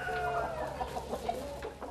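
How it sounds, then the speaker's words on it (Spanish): Chickens and roosters on an organic farm in Lower Saxony, Germany, cluck and call together in a busy, continuous flock chorus, with a few sharper calls standing out, at a fairly low level. "Todos estos gallos vienen del criadero de Hockenberg."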